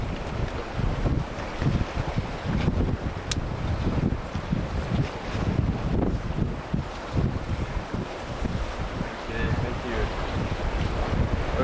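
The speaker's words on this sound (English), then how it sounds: "It's quite stormy and it's very windy" Stormy wind blasts across the sea at night before a relief swim, a loud, continuous roaring rumble with microphone buffeting and the wash of waves, and some talk is partly audible underneath.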